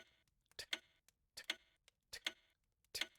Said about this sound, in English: And this one sounds more like a clicking I guess clock.